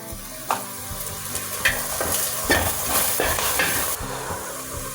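Onions and spices sizzle in a hot pan for a pumpkin and fresh coconut curry, a loud steady frying hiss broken by a few scraping stirs, close up with no voices.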